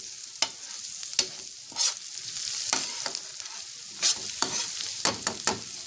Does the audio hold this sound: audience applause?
no